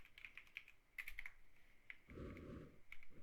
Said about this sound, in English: I keep typing no clip